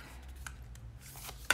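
Tarot cards laid out on a table, a few soft papery slaps and rustles with a sharper snap near the end, close and quiet over a low background hum.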